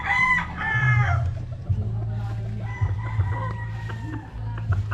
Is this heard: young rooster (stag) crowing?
yes